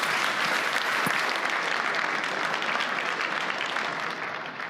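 Conference audience at the Munich Security Conference applauding, a dense, even wash of clapping from a large hall that holds steady and then fades slightly toward the end.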